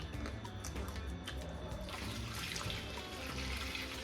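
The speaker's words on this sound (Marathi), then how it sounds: "त्यानंतर यात आपण भरपूर असं थंडगार मटक्यातलं पाणी टाकणार आहे." Cold water from a clay pot being poured into a panipuri mixture in a home kitchen, a steady splashing stream that grows brighter partway through, continuous and close.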